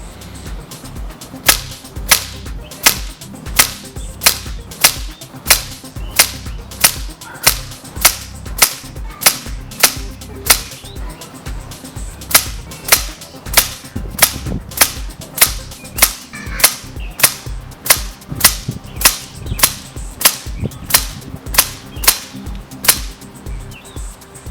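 An FX air gun firing FX Superior slugs, a long series of sharp, loud shots at a steady rhythm, roughly one every half second to second, close by with nobody talking.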